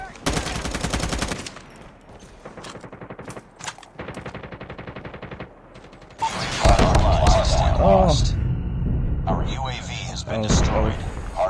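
Sentry gun firing during a hardpoint match in a first-person shooter, with long rattling bursts of automatic gunfire. The shooting starts clipped and rhythmic, then turns into loud, dense, continuous fire and explosions, with a voice speaking over parts of it.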